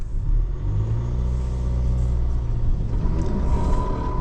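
A JAC T9 pickup in 4H revs hard while its wheels spin without grip, a loud, near engine roar and rumble that holds steady then eases slightly.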